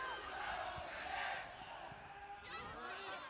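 Friends and family of the French and German players at a girls' school football final cheer and shout as a loud, continuous crowd roar with scattered voices rising above it.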